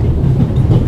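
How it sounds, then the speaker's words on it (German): A train in the video game The Raven braking toward a stop, a short burst of heavy low rumble and rolling rail noise, loud and close with no voices. "Ich bremse erstmal den Zug ab"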